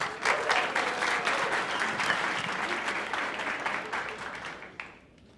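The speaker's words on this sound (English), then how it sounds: "Give them a round of applause." Audience applause at a startup pitch night, steady clapping from a crowd in a hall, fading out near the end.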